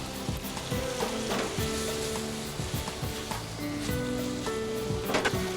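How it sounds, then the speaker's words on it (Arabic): Tomatoes sizzle and fry with chicken in a pan for Turkish shish tawook, a steady close crackle broken by occasional scraping stirs, with no talking. "راح ابدي اضيف اني الطماطم حتى تكمل استواءها مع الدجاج"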